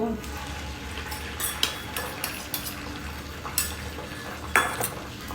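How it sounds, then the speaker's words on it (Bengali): Oil sizzles steadily as an egg fries in a frying pan, with a scattering of sharp clinks and scrapes from a utensil against the pan. "ঝটপট ডিমটা ভাজি করে নিতে হবে"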